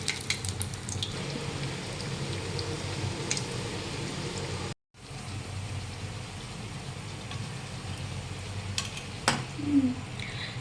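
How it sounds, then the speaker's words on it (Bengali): Eggplant fritters (beguni) frying in hot oil, made after a batch of pumpkin slices: a steady close bubbling hiss with occasional clinks of a utensil, broken by a brief gap midway, and no talk. "এবার আমি বেগনিগুলো ভাজতে দিয়েছি"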